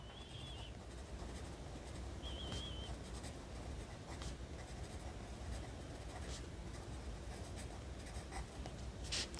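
A pen writes on lined notebook paper during handwriting practice, giving close, soft scratching strokes in short irregular bursts over a low steady background rumble.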